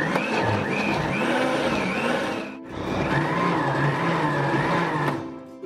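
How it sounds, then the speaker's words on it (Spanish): A kitchen blender whirs loudly as it purees onion, garlic and oregano for a red pozole sauce, its high motor whine wavering and dipping briefly mid-run before spinning up again. "Y ahora que tengo todos los ingredientes en la licuadora, comenzamos a licuarlo."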